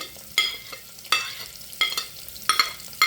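Onions and curry leaves frying in oil, stirred with a ladle: a quiet sizzle under four sharp metallic ladle scrapes at roughly even intervals, close by, with no talking.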